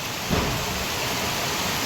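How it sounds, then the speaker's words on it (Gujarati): Heavy monsoon downpour in Dindoli, Surat, on flooded streets: a steady, dense hiss of rain that fills the whole stretch without a break, loud and close. "જો મિત્રો જબરજસ્ત વરસાદ ચાલી રહ્યો છે"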